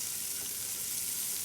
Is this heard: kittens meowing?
no